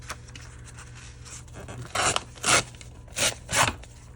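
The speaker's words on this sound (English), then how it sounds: "I'm just going to go ahead and tear these off" Pages torn off for a small purse journal, four quick raspy paper rips in the second half, close and fairly loud after a quiet start with light handling rustle.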